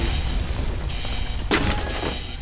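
A single loud gunshot boom in a shooting video game, striking midway over a steady background rumble, with a few fainter cracks trailing after it.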